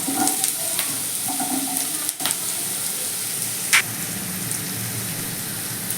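Diced potato hitting a hot pan of oil with chopped ginger, giving a steady broad sizzle and frying hiss with light stirring clinks throughout, no talking.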